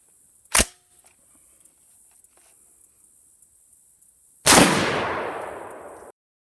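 Two sharp, loud reports from an Adams Arms .308 piston-driven rifle at a test fire: a brief crack early, then after a quiet stretch a heavier blast whose echo rings and decays for over a second.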